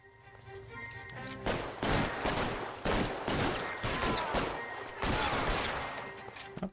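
Video game gunfire from a car chase in LA Noire, a dense volley of overlapping shots and bursts that keeps going through most of the stretch at steady loudness over a busy game soundtrack.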